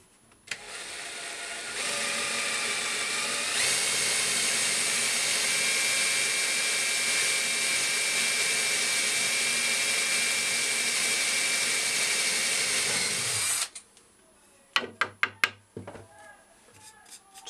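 A power drill bores a hole through a marked centre point, whining loudly and steadily for about twelve seconds before stopping, followed by several sharp knocks and clatters.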